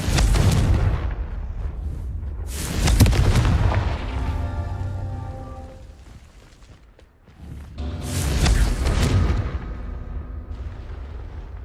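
Confringo blasting spell explosions in the Hogwarts Legacy video game: two heavy booming blasts with rumbling decay, the second following after a brief lull, loud and close.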